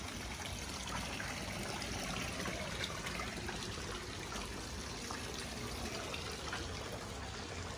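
Quiet, steady trickling water from a resort water feature in Bali runs continuously, soft and even with no voices.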